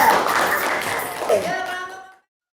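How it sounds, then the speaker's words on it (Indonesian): A short burst of group clapping in a classroom, with a voice speaking over it just before it cuts off. "Tepuk tangan untuk kelompok ketiga"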